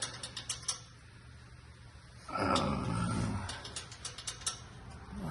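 Oil change on a 2023 Lexus GX460, a ratchet clicking in quick bursts as the bolts are tightened, close and fairly loud, with a longer grinding swell of mechanism noise partway through.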